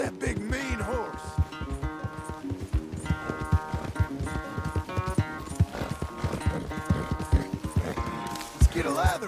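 Horse hooves clip-clop steadily in Red Dead Redemption 2 under a game music score and spoken dialogue, the rhythmic beats running throughout at moderate loudness.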